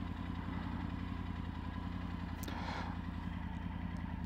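Triumph Tiger 900 GT Pro engine running steadily up close, a constant low throbbing rumble with a brief mechanical clunk midway as a gear changes.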